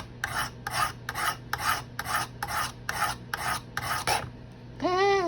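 A steel CRKT M-16 knife blade is drawn across a Spyderco steel diamond plate in about nine even, close rasping strokes. A short rising squeak follows at the end, with no speech.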